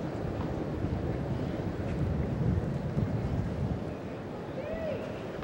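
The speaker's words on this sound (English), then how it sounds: "That wind at the top of the stadium, which is blowing in Sampras's face." Wind blows at the top of a tennis stadium during a US Open quarterfinal match, a continuous low, rushing rumble with slight gusting swells and faint ambient noise.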